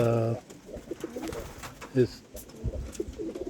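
Racing pigeons coo softly in a coop, a few low throaty calls close by, with someone talking over them.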